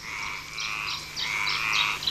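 San Antón tree frog in the lush Garajonay forest, giving a run of nasal, rasping croaks in quick succession, fairly close and alone over a low steady hum.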